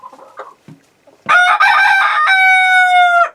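Chickens in a homestead flock cluck softly, then a rooster crows loud and close, one long drawn-out cock-a-doodle-doo that holds to the end.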